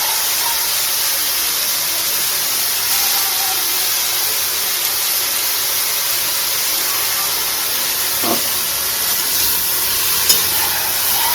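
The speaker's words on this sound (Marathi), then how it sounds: "ही थोडीशी मेथी फ्राय करून घ्यायची आपण" Fenugreek leaves fry in a pan with a constant bright sizzle and hiss, steady throughout with a couple of faint stirring clicks and no voices.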